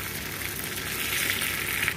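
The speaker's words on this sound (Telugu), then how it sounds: "కరివేపాకు వేసుకున్నాం." Curry leaves sizzle in hot oil with browned garlic for a tempering to go over drumstick-leaf dal. The crackle is close, loud and unbroken for a couple of seconds.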